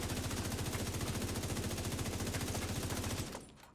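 M4 rifle in a video game firing full-auto, a dense rapid stream of loud close gunshots that runs continuously before cutting off abruptly near the end, with no speech.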